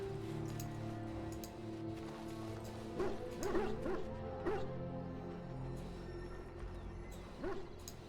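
A dog in the Dragon Age Origins video game gives a few quick barks and yips, mid-distance, over a steady low game ambience and hum.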